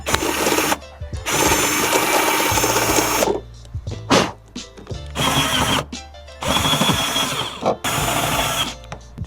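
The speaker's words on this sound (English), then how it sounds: "refine the holes that you drilled with the 1/8 step drill bit" A power drill with a 1/8 step drill bit whines loudly in repeated bursts of several seconds with short pauses between, refining holes for a Mustang GT500 rear spoiler install.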